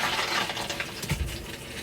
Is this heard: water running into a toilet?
yes